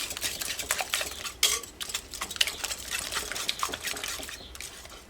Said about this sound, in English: Mix it to my eggs.